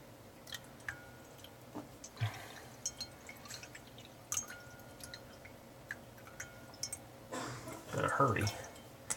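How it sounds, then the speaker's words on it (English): Water drips and trickles from a leaking multi-turn valve during a stem repair, with faint scattered clicks and handling noises and a louder splashing burst near the end. "Quite a bit of water's coming out of there still."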